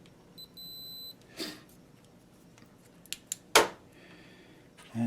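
A Fluke pocket multimeter gives a steady continuity beep of about a second as its leads touch the connectors of an ATX computer power supply, followed by faint clicks and handling noises in a quiet room.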